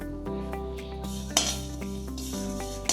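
Fenugreek seeds dry-roasting in a pan, with a steady run of metallic scraping and stirring, a few sharp clinks of utensil on pan and a soft sizzle throughout, with no talking.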